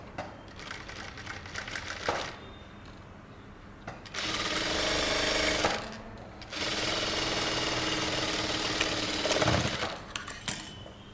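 A sewing machine stitching boat neck kurta fabric, close and loud, running in several bursts of rapid rattling stitches with brief pauses between, two longer steady runs in the middle, and no talking.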